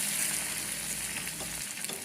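Curry leaves sizzling in hot oil in a pan while being stirred for a tomato moru curry, a steady, dense frying hiss close by with faint scraping, no voices.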